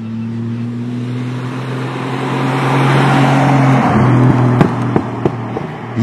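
A Ford Mustang's small 200ci six-cylinder engine drones loudly and steadily while driving, its low hum swelling slightly before a few sharp exhaust pops and crackles near the end.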